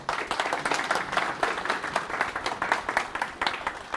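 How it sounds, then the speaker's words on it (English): An audience at a leadership panel claps steadily for the whole stretch, a moderately loud and even round of applause with no voices over it. "A round of applause for everyone."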